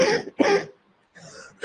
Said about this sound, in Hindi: मुझे खांसी आई, खांसी है मुझे